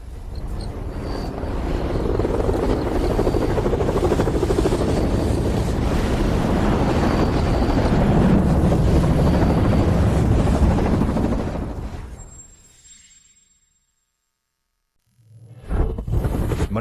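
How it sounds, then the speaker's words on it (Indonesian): Helicopter rotor noise roars loud and steady with a windy, rushing wash, then fades away into near silence before a brief return at the end. "helikopter datang"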